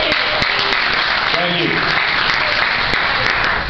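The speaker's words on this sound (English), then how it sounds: "Go ahead and give them a round of applause." Audience applause and cheering for a newly engaged couple at a live show, a loud continuous burst of clapping with sharp individual claps standing out, while a voice speaks briefly over it.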